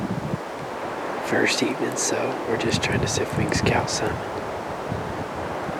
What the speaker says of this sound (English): But it's really been windy today,